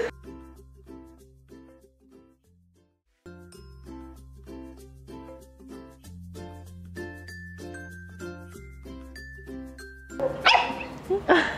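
A dog barks in a steady run of sharp, evenly spaced yelps, close and fairly loud, with chiming tones layered over the barking and a burst of noise near the end.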